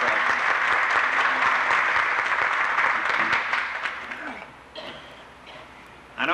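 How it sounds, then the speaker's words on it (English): Crowd at a highway groundbreaking and ribbon-cutting luncheon giving a round of applause, loud and sustained for about four seconds before fading, followed by scattered room sounds and a voice. "These fellows are certainly entitled to a round of applause for their contribution in this project."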